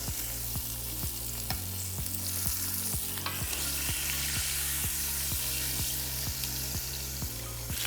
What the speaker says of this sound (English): I'm kind of spinning my steak around in the pan